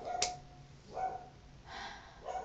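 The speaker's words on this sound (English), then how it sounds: "Oh, look, my dog starts barking." A dog barks a few times in the distance, faint and spaced out, with a quiet room tone between barks.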